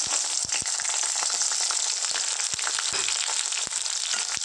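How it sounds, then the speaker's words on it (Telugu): Two medium onions and four green chillies frying in hot oil for a prawn curry, a loud, dense, constant sizzle with scattered crackles and pops close up, and no voices. "ఆయిల్ హీట్ అయ్యాక ఆనియన్స్ వేసుకుందాం ఫ్రెండ్స్"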